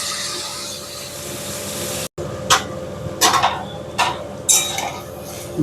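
Chopped beans and capsicum go into a pan, with a steady background hum, then a brief break and several scraping, rubbing spoon-against-pan stirs and clinks, close and moderately loud, no voices.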